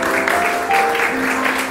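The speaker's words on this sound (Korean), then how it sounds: "자리로 돌아가실 때 한 번 더 박수 부탁드립니다." A church congregation applauds at an anniversary ordination thanksgiving service as honorees return to their seats, a steady wash of clapping heard over a sustained organ-like tone.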